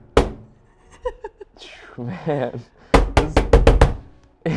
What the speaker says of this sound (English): Can you like bang yours on the table like really hard?